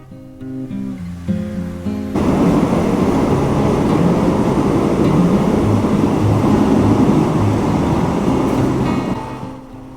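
Loud, steady rumble of an ordinary open-window passenger train in Thailand with wind and wheel noise rushing in after a brief quieter start, fading slightly at the end.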